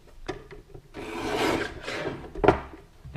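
A paper cutter blade slicing through paper, sounding as one long rasping, scraping stroke that builds over about a second, followed by a sharper, louder thunk as the blade comes down, close and with no talking.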